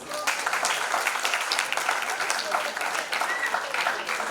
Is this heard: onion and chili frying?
no